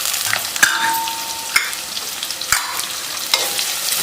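Onions fry in a pan with a continuous sizzle, broken by four sharp scrapes of a spoon stirring them, close and without speech.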